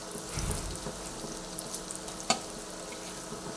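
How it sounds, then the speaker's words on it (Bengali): Onion fries in oil in a pan with ground spices. A soft, steady sizzle runs throughout under occasional stirring scrapes, and a single sharp clack of the utensil comes partway through. "পেঁয়াজটাকে আমি একটু ভালোভাবে ভেজে নিচ্ছি"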